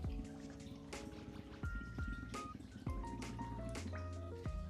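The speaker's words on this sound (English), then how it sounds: "I grab a water bottle, just dip it in, let it fill up" A plastic water bottle dipped into an aquarium tank fills with water, producing a quick run of gurgling glugs and drips as air bubbles out, close and clear with no talking.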